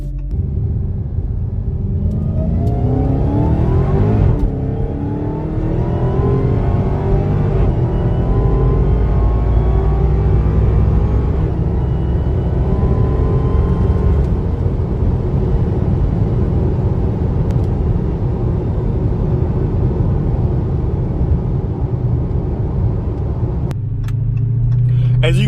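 A Dodge Charger Redeye accelerates hard on a 60-130 run on a hot day along a rough road, its engine a loud, deep rumble climbing through several gears, with shift breaks and a sustained roar throughout.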